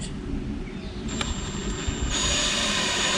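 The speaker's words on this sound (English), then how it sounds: "we drill holes in the actual tank" A steady whirring drill runs close by, boring holes in a fiberglass waste water tank, with a faint high whine and the motor pitch rising slightly near the end; no voices.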